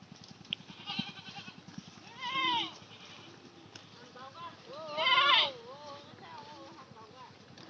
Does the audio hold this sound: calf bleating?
yes